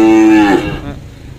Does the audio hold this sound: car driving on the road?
no